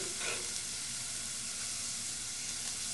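Onion sautéing in extra virgin olive oil, a steady close sizzle and hiss running evenly throughout, with no talking.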